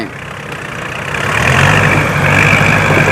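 A Nissan dump truck's engine, stuck in mud, revs up and holds a loud, straining drone, rising after a second and staying high, with voices faintly mixed in.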